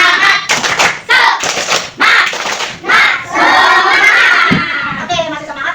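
A classroom of students claps together in a rhythmic spirit cheer, loud bursts of clapping in a quick patterned beat mixed with children's shouting voices.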